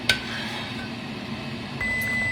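A kitchen timer goes off during blueberry jam making for water bath canning: a short click, then a sustained electronic beep tone begins near the end, over a low background hum.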